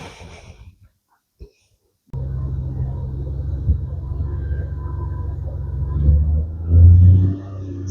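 A vehicle engine rumbles steadily and low on the drive to a snow walking trail in the Catskills. A brief lull comes first, then the drone runs continuously, swelling slightly near the end, with no talk.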